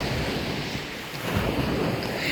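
Sea waves wash onto a shore in a coastal town, a close, continuous surf roar mixed with heavy wind buffeting the microphone.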